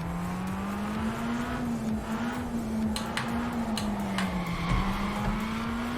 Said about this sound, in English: Yeah, a bit of drifting, I guess.